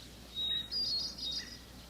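Prairie falcon calls in the wild, two or three thin, high chirping cries close together over a quiet background.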